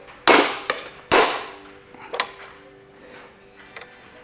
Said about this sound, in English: I just go immediately to hammer.